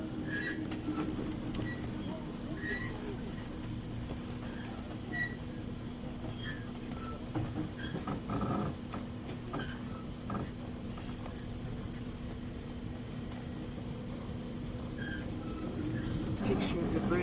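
A passing train rolls by on the railway tracks near the Missouri River, giving a steady low rumble with scattered clanks and faint wheel squeals that carry on throughout the recording.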